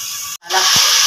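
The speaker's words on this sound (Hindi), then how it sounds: "बाकी तो सिर्फ मसाला ही भून रहा है" Masala spices frying in a pan for mango pickle, a steady bright sizzling hiss that briefly cuts out and then returns strongly.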